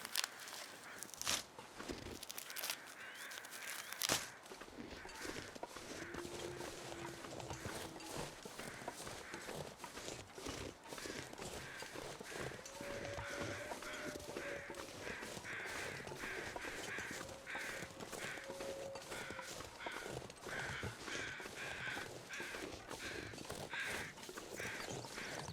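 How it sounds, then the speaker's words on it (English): Crows caw from the distance in The Long Dark, a few drawn-out calls over a steady wind-like ambient bed with soft footstep crunches throughout. "And you can hear the crows there."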